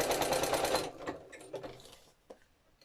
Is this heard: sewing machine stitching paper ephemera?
yes